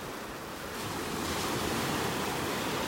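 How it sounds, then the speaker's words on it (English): Ocean surf washing onto the beach at Delnor-Wiggins in North Naples, Florida, a broad steady roar that swells after the first second and holds, with no voices. "Love watching those waves out there."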